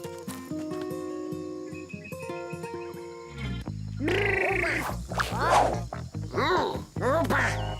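Low, rough croaking calls repeat irregularly after a stretch of music, fairly loud and close, over a steady background.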